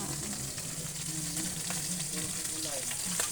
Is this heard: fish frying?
yes